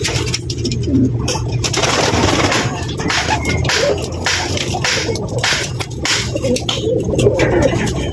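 Pigeons coo in low, rolling murmurs close by, the soft calls repeating throughout over a steady background rustle and flutter, with a brief voice in the mix.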